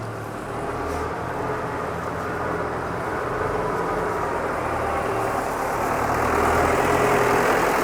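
A KUN front loader's engine runs steadily, a dense low rumble with a constant idle-like drone that holds level throughout and grows slightly louder near the end.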